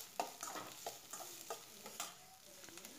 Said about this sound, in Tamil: கொஞ்சம் வெங்காயத்தை வதக்கி விட்டுக்கலாம்.